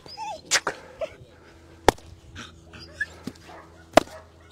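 A 4.5-month-old puppy in possession-game training lets out scattered sharp yips and short barks mixed with whimpers, several bursts spread unevenly over a few seconds, close by.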